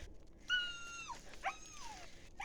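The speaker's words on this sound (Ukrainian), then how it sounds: "О, собакін. Ти чого?" A dog whimpers outdoors after rain, giving two drawn-out, high, wavering whines that slide downward in pitch, close by and fairly quiet, with no one talking.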